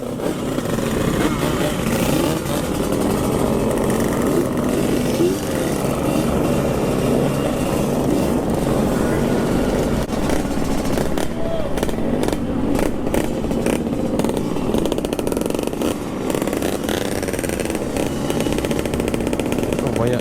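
A group of Yamaha RX King motorcycles rides together at a Street King Makassar meetup, their engines a loud, steady roar that fills the whole stretch without a break.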